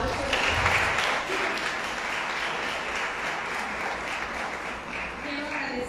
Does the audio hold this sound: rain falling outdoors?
no